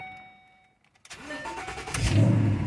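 A 2014 Ford Mustang GT V8 cranks briefly after a quiet moment, catches and rumbles into a deep, loud idle that swells as it settles, recorded up close.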